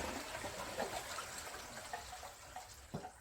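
Water rushing through stainless steel and brass crimp PEX pipes as ball valves are opened, a steady faint hiss and flow with light gurgles, no talking.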